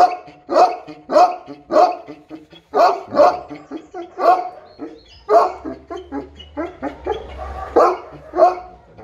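A Tibetan mastiff under veterinary skin treatment barks repeatedly at close range, loud rhythmic bursts in quick succession with a few yips, no talk over it.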